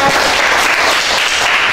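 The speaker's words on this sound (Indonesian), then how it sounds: "Oke, tepuk tangan untuk dia." Classmates applaud a student who has just read aloud in an Indonesian classroom. Dense, loud clapping lasts the whole short burst.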